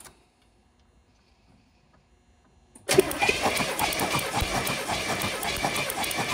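After near silence, the engine of a 1971 Chevelle is cranked over by the starter, breaking into a loud, sustained, rhythmic churning that continues steadily to the end.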